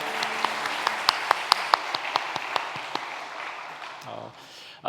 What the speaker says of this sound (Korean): 우리를 불러주신 하나님께 감사의 박수 올려드립시다.